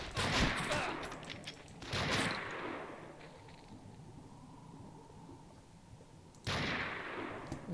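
Heavy explosive blasts from a thrown bomb bouncing back and detonating in the shooter game Wolfenstein: Blade of Agony: three loud bursts, at the start, near two seconds and late, each with a rumbling tail fading into low ambience.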